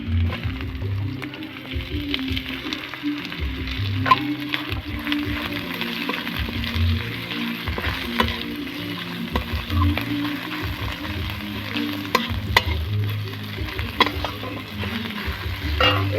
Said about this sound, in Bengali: এবারে আমি এর মধ্যে পেঁয়াজ কুচিগুলো দিয়ে দেবো